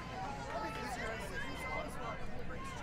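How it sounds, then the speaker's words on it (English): Crowd noise from tightly packed stands at a junior softball game between Canada and the USA, a steady, dense babble of many voices with a commentator talking over it. "you can hear some of that crowd noise"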